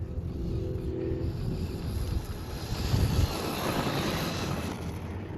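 An FMS Ford F-100 brushless RC truck driven flat out through turns over bumpy ground, a continuous whining motor roar with gravelly tyre noise that swells briefly midway, close and fairly loud, with no voices.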